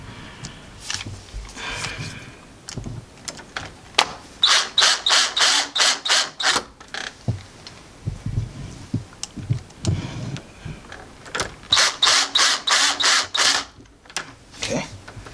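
A cordless drill drives screws into a door entry lock, with bursts of rapid ratcheting clicks from the clutch in two loud clusters. Softer handling clatter and taps fill the gaps, all close by.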